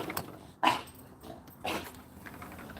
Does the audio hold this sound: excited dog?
yes